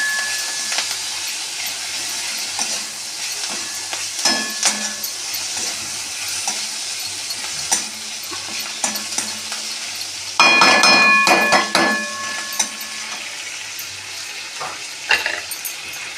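Onion and tomato fry in a pan with a constant soft sizzle and hiss. Scrapes and stirring clatter come and go, and a louder burst of sizzling and stirring rises near the middle.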